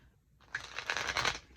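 Cards of a mini Halloween Tarot deck are shuffled by hand, giving a quick, close, papery riffling flutter that starts after a brief silence and builds over about a second.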